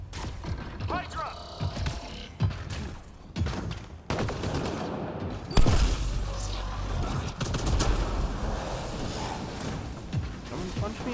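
Explosions and gunfire in the multiplayer mode of the video game Mass Effect Andromeda: dense, rapid bursts of weapon fire and heavy booms layered together, continuous and loud, with voices mixed in.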